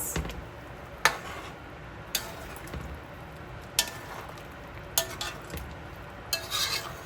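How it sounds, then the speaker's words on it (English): Chicken soup ingredients stirred in a pot: a spoon scrapes and clinks against the pot in irregular strokes every second or so, over a soft steady simmering hiss. "I'm gonna give that a good old mix."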